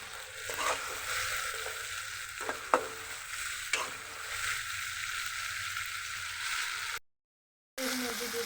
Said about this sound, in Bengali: শুটকিটা এই মশলার সাথে আমি ভেজে নেব।